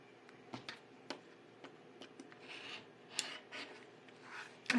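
Rotary cutter blade slicing fabric strips for a 12-inch spool quilt block, heard as faint scattered ticks and brief rasping strokes against a mat, ending in a quick cluster of sharper clicks.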